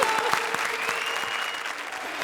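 Studio audience applause on a Hindi TV comedy show, a dense, even roar of clapping filling the room for a couple of seconds, with a few sharper claps standing out near the start.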